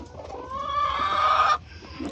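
A broody hen being coaxed off a nesting box lets out a single drawn-out, rising clucking call, close and fairly loud, ending abruptly with faint rustling after.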